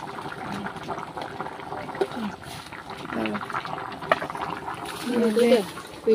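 Bottle gourd curry cooks in a pot in a village kitchen, bubbling and sizzling steadily at moderate loudness under a voice talking.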